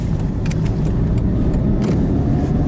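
Steady engine and road rumble from inside a moving car, low and constant, with a few faint ticks and rattles above it.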